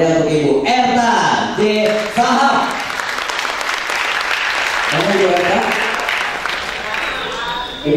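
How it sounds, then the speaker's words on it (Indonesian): A crowd claps at a film pre-launch event, the applause swelling into a steady, lively roar while someone speaks over it on a microphone at the start and again near the end. "Langsung aja kita beri tepuk tangan paling meriah untuk Ibu Erta J. Sahab."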